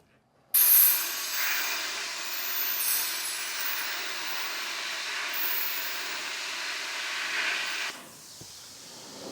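A plasma cutter runs on air pressure, starting abruptly with a loud steady hiss and rushing air that holds nearly constant, then drops in level near the end as the arc cuts out and the air keeps flowing.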